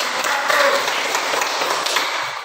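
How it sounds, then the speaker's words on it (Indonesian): Applause for a presenting group in a classroom, a brief burst of clapping from many hands with a faint ping and murmured voices underneath, fading toward the end. "Berikan tepuk tangan buat"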